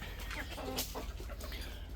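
Native country chickens cluck in a cage at a farm setup in Chennai, their soft, overlapping calls continuing close by and fairly steadily throughout.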